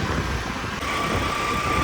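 Traffic on a busy city road where metro construction is under way, heard as a continuous broadband rumble and roar with no distinct events standing out.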